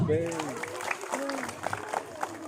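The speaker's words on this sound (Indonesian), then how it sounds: "Tepuk tangan" Elementary schoolchildren at an anti-bullying declaration clap their hands in quick, scattered bursts while young voices chatter and sing over the clapping, which is fairly close.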